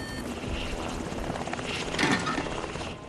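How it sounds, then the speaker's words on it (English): Helicopter rotor and engine noise from the video game Dead Rising 2, a steady dense whir held at constant loudness for a few seconds with a slight swell near the end, no voices over it. "press the button for the winch, which pulls down the helicopter."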